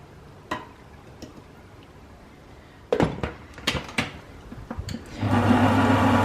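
Gluten-free garlic focaccia dough being mixed, with scattered knocks and clicks of utensils before a stand mixer whirs up loudly and steadily near the end.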